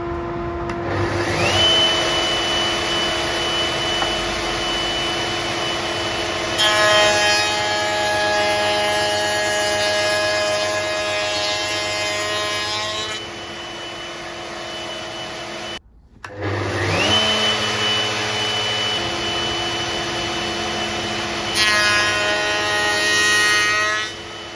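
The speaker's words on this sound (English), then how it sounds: "So I actually done these on the router table." A router table machining tenons in wood for a shaker-style panel door, a loud steady motor whine with rising cutting tones during passes, briefly stopping and then spinning up again for a second run.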